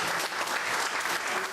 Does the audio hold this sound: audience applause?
yes